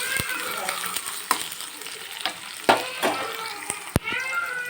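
Onion, green chillies and curry leaves frying in a pan with cumin, giving a steady crackling sizzle with intermittent sharp stirring clacks and pops, heard close up.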